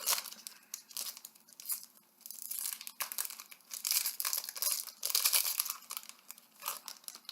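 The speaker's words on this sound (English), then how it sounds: "I won a couple of booster packs, so I'm going to open them for you guys" A Magic: The Gathering booster pack's foil wrapper is torn open and crinkled up close, a run of sharp crackling rips and crumples in uneven bursts, fairly quiet and without speech.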